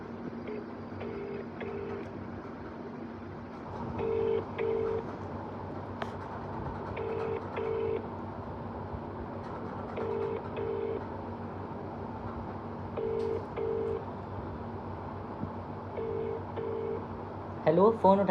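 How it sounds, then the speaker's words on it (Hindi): A telephone number is dialed on a phone, with short paired tones repeating at regular intervals over a steady low hum, quiet and without talk. "सो रैंडम नंबर डायल कर रहा हूँ"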